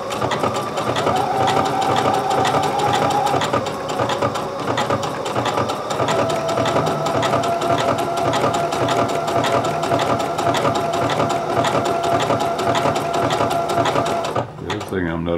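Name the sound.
sewing machine stitching shorts fabric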